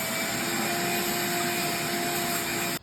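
A vacuum cleaner runs steadily, clearing sawdust from wood slabs clamped for a river table epoxy pour, a loud continuous whine with a constant hum that cuts off abruptly at the very end.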